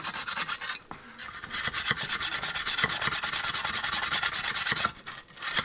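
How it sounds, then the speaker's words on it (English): A coarse brush scrubs rust off vintage Fender Jazzmaster guitar hardware in fast, close, rhythmic rasping strokes that run almost continuously, with a couple of short breaks. "Switch to a coarser brush just to see if I can't really get in that corner."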